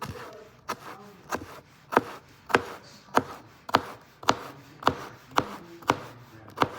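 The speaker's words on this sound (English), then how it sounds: "So now I got you guys even closer to the knife, so you can see how I'm cutting this." A knife chops aromatics on a wooden cutting board in a steady rhythm, about a dozen sharp, close taps spaced evenly with no talking.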